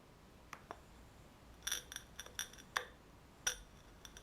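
The glass breaker tip of a Sanrenmu 7090LUX knife scrapes and ticks against a glass marmalade jar in a string of sharp, faint, close clicks and brief scratches spaced irregularly over a quiet background.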